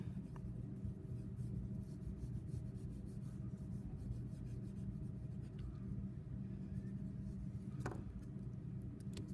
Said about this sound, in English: I'm using a really soft pencil, so it's blending very easily.